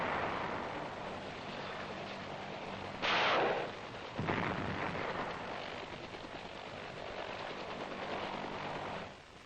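Gunfire from H-21 helicopters laying continuous daisy-chain fire on Viet Cong positions in Vietnam, a heavy roar of rotor and weapon noise with a sharp burst of blasts near the middle, loud and sustained.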